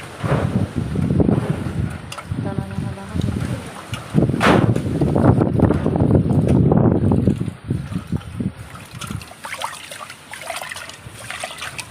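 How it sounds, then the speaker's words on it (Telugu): Strong wind blows hard near a beach on the day before a cyclone, rushing gusts buffeting the microphone continuously while someone talks over it. "గాలి చూడండి అట్లా కొడతా ఉందో చాలా ఎక్కువగా ఉంది"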